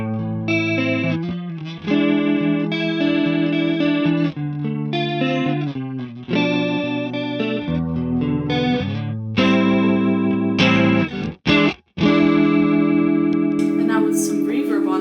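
An electric guitar played through a JHS pedal with a room effect rings out in sustained chords and melodic lines, thick and swirling with chorus-like modulation, loud and continuous with brief pauses near the end.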